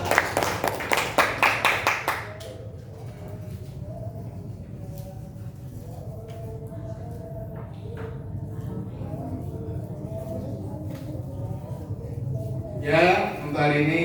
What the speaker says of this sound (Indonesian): tepuk tangan buat Mariska